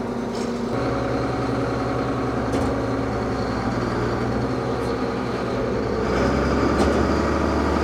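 Allis Chalmers 210 tractor engine running at about half throttle under light load, a steady rough mechanical drone with a faint rattle that swells slightly toward the end, close and continuous with no talk.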